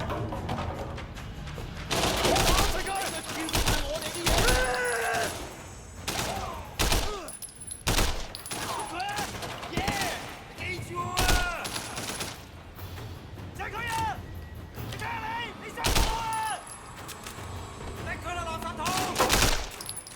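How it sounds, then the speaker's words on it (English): Repeated loud shotgun blasts and rapid gunfire crack through a firefight in the video game Sleeping Dogs, with someone talking excitedly over the shots throughout. "It's a shotgun. Bruh, it's a shotgun!"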